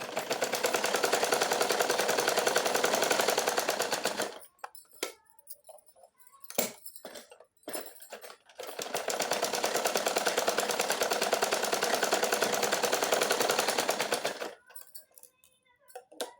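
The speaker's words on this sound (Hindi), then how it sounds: "अब हम इस प्रकार कंधे पे सिलाई लगाएंगे।" A sewing machine stitches the shoulder seam of a plain blouse, joining the two pieces in two long, steady, loud runs of rapid needle chatter separated by a few seconds of quiet handling clicks.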